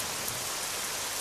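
Steady rain falls in a continuous, even hiss, fairly close and moderately loud, with no voices over it.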